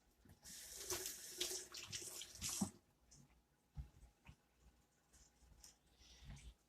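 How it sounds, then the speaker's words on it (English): Running tap water rinses hands at a kitchen sink while cooking corned beef hash, a steady loud splashing gush for about two and a half seconds, then quieter intermittent drips and handling sounds. "let me rinse my hands off."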